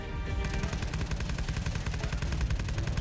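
Rapid gunfire rattles in Black Ops 3 zombies, a loud continuous burst of automatic shots close up with no pauses and no talk.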